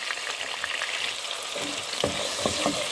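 Meat for chorba soup sizzling and frying in a pot, a steady crackling hiss with a few stirring scrapes and clinks toward the end.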